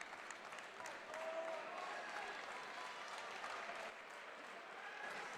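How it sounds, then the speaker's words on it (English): An NC State Wolfpack crowd at a college wrestling dual against North Carolina applauds in a distant, faint but sustained wash of clapping across an arena. "a string of applause"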